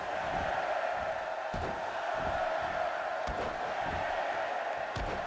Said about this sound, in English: Crowd's counting.